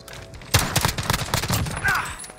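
A loud volley of gunfire in Call of Duty Warzone cracks in rapid succession, with a later burst of shots trailing off.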